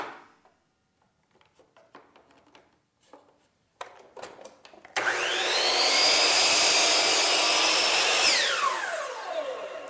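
Miter saw cutting a board after a series of soft clicks and handling knocks; the motor spins up to a loud, sustained whine through the wood and then winds down.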